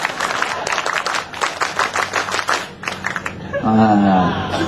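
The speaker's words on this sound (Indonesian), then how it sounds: "Tepuk pramuka." An audience does the rhythmic Indonesian scout clap, a rapid patterned burst of many hands clapping in unison for about three seconds, then a loud voice takes over.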